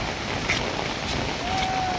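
Rushing floodwater of a swollen river spilling into farm fields after heavy rain in Nepal, a steady broad roar with wind buffeting the microphone and no speech.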